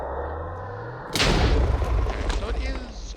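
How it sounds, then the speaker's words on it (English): A moderately large explosion in a modded Minecraft game bursts out suddenly with a deep boom, followed by a crackling, rumbling tail. "Okay, so it is a moderately large explosion."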